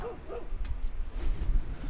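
A cartoonish dog barking effect from the card game MTG Arena: a couple of quick, high yips and a short whimper, close and clear, followed by quiet background.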